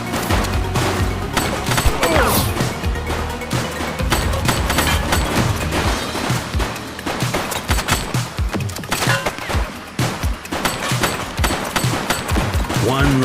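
Rapid gunfire from The Precinct video game crackles in dense volleys with heavy booms and crashes, loud and nearly continuous throughout, while game voices talk underneath.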